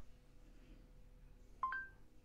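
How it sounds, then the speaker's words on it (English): A short double electronic beep from a phone voice assistant running in a braille-oriented accessibility app, two quick tones close together over a faint background hum, with no talking. "Give your commands after the beep sound which you will hear now."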